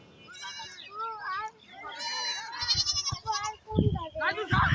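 Nearby goat giving several quavering bleats, one after another, mixed with people and someone talking close by.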